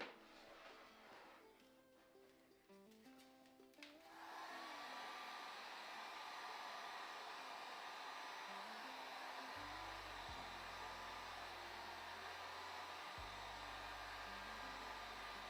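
A hair-dryer-style Ball Warmer 3000 blows steadily on fresh wood finish on a Shaker-style cabinet door, a loud continuous whoosh that switches on about four seconds in and runs nonstop, with faint low thumps near the end.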